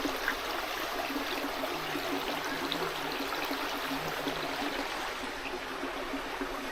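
Water flows at Maryvine Falls on Vancouver Island, a steady, soft rushing wash with no breaks, heard alone at a modest distance.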